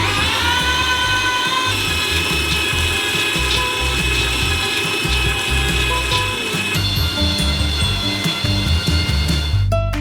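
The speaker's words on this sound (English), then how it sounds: "We transfer them into a meat grinder. And grind them through a small nozzle." A meat grinder with a small nozzle grinds 20 kilograms of nuts, producing a loud, steady mechanical drone with a whining tone and gritty crunching that runs unbroken for the whole stretch.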